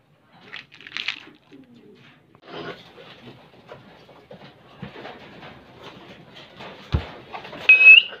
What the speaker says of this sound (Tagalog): Papakainin ko na mga kalapatids.